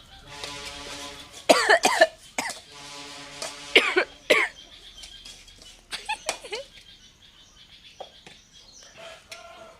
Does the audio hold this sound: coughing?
yes